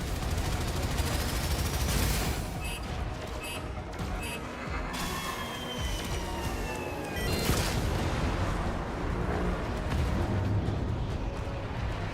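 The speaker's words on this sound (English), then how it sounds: "Gunnery crews, launch torpedoes." Warframe ship gunnery and torpedo launches, a dense, steady barrage of loud rapid gunfire and booming blasts with whooshing streaks and electronic tones running through, heard alone without talk.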